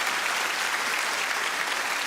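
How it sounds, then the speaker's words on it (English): An audience breaks into steady, dense applause for a Star Wars fan at a comedy show, the clapping full and sustained from start to finish. "Round of applause for the Star Wars fan."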